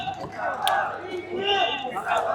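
Crowd of supporters at a political rally in Rajasthan, a dense, excited mass of voices shouting and cheering together in a continuous swell, with a sharp burst near the start.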